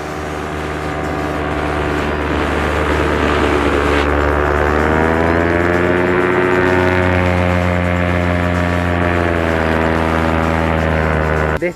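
A Vittorazi Moster 185 paramotor engine runs loud and close, holding a steady buzzing drone that rises in pitch partway through and stays sustained, with no voices.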